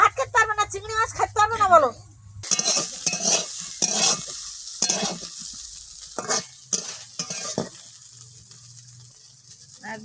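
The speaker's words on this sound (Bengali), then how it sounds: "বেশি ভাজতে গেলে পুড়ে উঠবে বেগুন" Eggplant fries in a pan, a hissing sizzle with stirring scrapes that runs under steady conversation in the kitchen, with a voice heard at the start.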